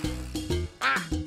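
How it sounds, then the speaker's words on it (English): A cartoon duck quacks in a few loud, nasal bursts, close and clear, with a short tonal sound before the quacks and no talking over them. "That's a duck."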